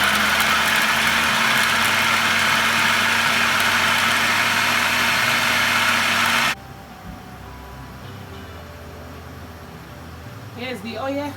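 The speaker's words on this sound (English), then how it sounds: "So let's start to blend" A blender runs loud and steady as it blends hot peppers for a palm oil pepper stew, then cuts off abruptly after about six seconds, leaving faint room noise.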